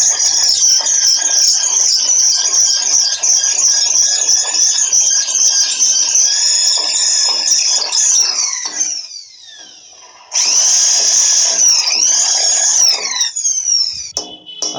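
A power drill widens a hole in a wall for mounting an electric geyser, a loud high-pitched grinding whine that runs for about eight seconds, eases off, then bursts back for a second long stretch before stopping.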